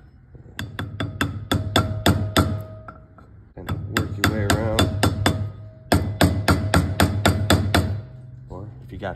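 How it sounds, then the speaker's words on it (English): Quick series of sharp metal hammer taps in three bursts, driving a trailer bearing race in, each a rapid run of strikes, while a person talks in between. "Hammer."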